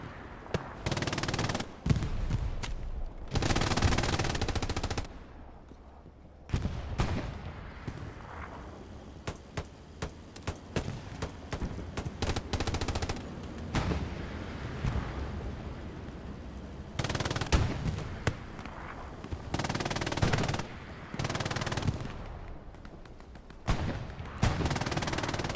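Machine guns rattle in Hell Let Loose during a competitive 49-versus-49 PC match on Pierre's Farm: repeated long, loud automatic bursts separated by short pauses, with scattered other shots around them.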